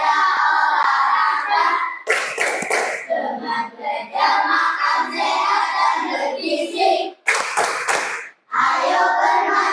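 Children's rhythmic hand-clapping game in an Indonesian third-grade class: a chant about seven healthy habits, with loud, steady claps sounding under and between the young voices throughout.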